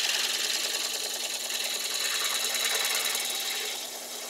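A wood lathe spins slowly at 600 RPM while a chair rung is being repaired. It makes a steady, close mechanical whir with a fine rhythmic buzz and a constant tonal hum, easing off slightly at the end.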